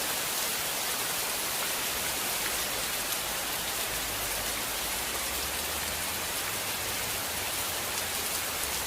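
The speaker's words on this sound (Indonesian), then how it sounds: "Yuk kita sama-sama menyaksikan bagaimana proses hujan." Steady rain pours down continuously, a dense, even hiss of drops hitting surfaces with no voices or pauses throughout.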